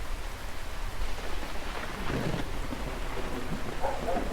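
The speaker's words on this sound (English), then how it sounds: "There was a storm that day." Heavy rain hisses steadily through a thunderstorm in the video game Until Then, with a low rumble of thunder rolling in around the middle and faint tonal game sounds near the end; no one speaks.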